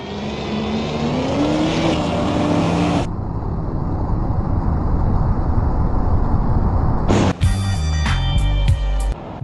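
A Chevrolet Camaro engine roars steadily and loudly for several seconds, its pitch rising, then a sharp clatter and heavy impacts follow near the end, with no talking.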